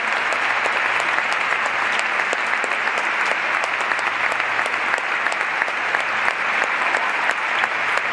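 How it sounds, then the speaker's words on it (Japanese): A stadium crowd at a J1 League football match between Yokohama F. Marinos and Kawasaki Frontale gives steady, loud applause for a retiring referee. Dense clapping continues evenly throughout with no talking. "皆様大きな拍手をお送りください。"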